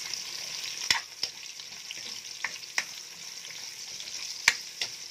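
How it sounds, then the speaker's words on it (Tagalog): Carrots sautéing in a pan for pork puchero, a steady soft sizzle with scattered sharp clinks and scrapes of a utensil stirring against the pan, fairly close and alone. "carrots. Just saute it."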